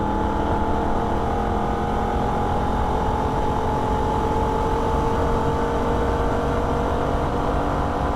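A Holden VF Ute engine runs at wide open throttle on the Nürburgring, a loud, sustained drone with steady tonal lines that barely shift pitch throughout, heard alone without talk.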